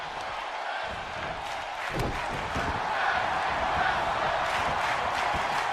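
Arena crowd at a live wrestling show cheering and roaring in a steady, loud wash of noise that swells slightly partway through, with scattered shouts and no clear speech on top.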